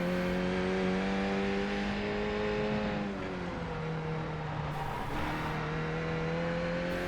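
Car engine held high in the revs and bouncing off the rev limiter on the approach to a corner, a loud steady droning tone with a stutter and dip in pitch midway, no talking.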